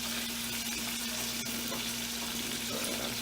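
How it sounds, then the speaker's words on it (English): Steady sizzling of chicken liver frying in a hot pan, a continuous crackling hiss with faint stirring scrapes. "the chicken liver coming together really nice, you know, and you want to keep continuously stirring while it's frying"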